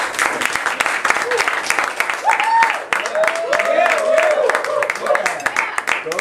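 An audience at a club meeting breaks into clapping. The clapping runs steadily throughout, with whoops, whistle-like cheers and voices rising over it in the middle.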